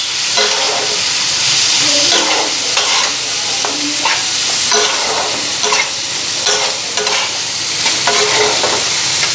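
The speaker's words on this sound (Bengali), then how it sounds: "ভাজা হলে রান্না শেষ" Food frying in a pan, a loud continuous sizzle with rhythmic stirring strokes repeating about once a second close by.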